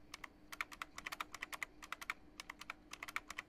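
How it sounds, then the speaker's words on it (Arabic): Computer keyboard keys clicking in quick, uneven bursts of crisp taps, close and fairly quiet over a low steady hum, with no voices. "مين بيحب صوت أزرار الكيبورد؟"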